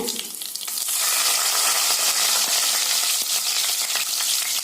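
Mustard seeds, urad dal, fenugreek, asafoetida, dried red chillies and curry leaves hit hot oil for a curry-leaf kulambu tempering, building within a second into a loud, steady, crackling sizzle that continues without a break.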